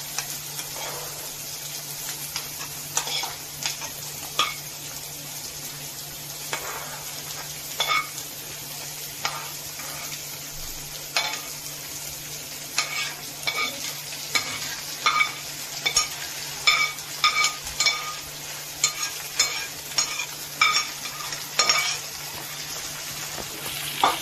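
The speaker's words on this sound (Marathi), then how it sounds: "आता आपण त्याच्यावरती ही मस्तपैकी शिजवलेली ज्वारी घालूया." Drained cooked sorghum tipped into a hot pan with curry leaves and stirred, a steady soft sizzle under repeated scraping and clinking of the spoon against the pan, close and without talk.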